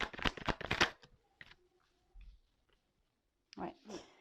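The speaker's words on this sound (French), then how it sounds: "je vais prendre toutes les cartes" Tarot cards are handled and shuffled, a quick burst of riffling card snaps up front followed by a few soft taps and rustles, with brief quiet speech near the end.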